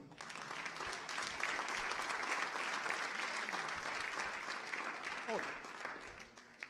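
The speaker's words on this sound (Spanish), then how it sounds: "¿Cuántos le dan un aplauso al Señor?" A congregation at a church service applauds in a sustained, fairly quiet roll of many hands clapping, steady for several seconds and tapering off near the end.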